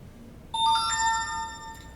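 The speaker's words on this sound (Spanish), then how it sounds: "Perdón que no bajé el sonido del teléfono." A mobile phone rings out with a bright chiming tone of a few quick rising notes over a faint room hiss. No one speaks over it.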